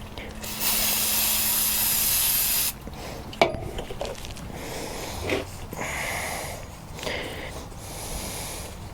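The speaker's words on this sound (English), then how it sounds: "Let's give it a spray." Cleaner hisses from a spray can onto a part from an Ariens ST824 snow thrower in a loud two-second burst, then short spray puffs follow amid clicks and handling noises of the workpiece.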